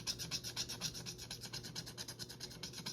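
Rapid rhythmic scratching of a coin or scraper across a scratch-off card during a cash-stuffing savings challenge, close and fairly quiet, with steady back-and-forth strokes and no talking.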